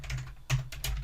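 Computer keyboard typing in Microsoft Word, several quick close keystrokes in an uneven burst with a slightly heavier key press near the middle.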